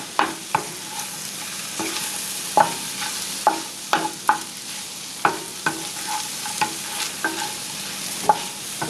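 Bitter melon and eggs stir-frying in a pan, a soft continuous sizzle broken by repeated sharp scrapes and clacks of a utensil against the pan at an irregular pace.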